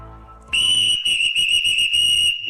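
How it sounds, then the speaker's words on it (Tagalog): A loud, piercing whistle blast from a large whistle starts abruptly and holds a steady high tone for about two seconds. "Ito ay isang malaking sipol."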